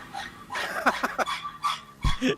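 Dogs bark and yip in the background behind a person, a few short scattered barks at moderate distance, with faint mechanical noise between them.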